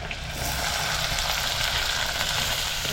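Onion hits hot oil already holding fried mustard seeds and garlic, setting off a loud, dense, unbroken sizzle that jumps up at the start and stays steady and close.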